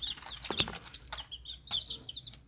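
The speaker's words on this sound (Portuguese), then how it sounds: "Os pintinzinhos estão aqui." Ten young chicks, offspring of a black hen, peep in quick high chirps scattered over the clip, fairly faint and close, with a louder cluck-like call near the start.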